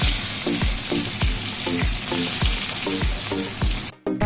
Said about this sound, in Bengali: তেল দিয়ে পেঁয়াজ দিয়ে দিব।